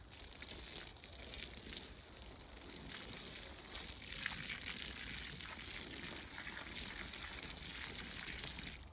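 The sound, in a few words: water poured onto a newly planted fruit tree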